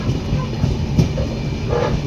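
The Kolkata–Sairang Express rumbles loudly and steadily as it rolls into Murshidabad Junction, a heavy wheel-and-carriage roar with faint rhythmic clatter heard from inside the moving train.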